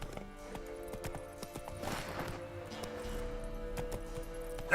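Geralt's horse Roach in The Witcher 3 gives a steady rhythm of clip-clop hoofbeats close by over faint background ambience, ending in a sudden louder burst.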